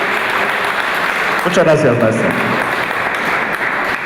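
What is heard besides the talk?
audience applause at a congress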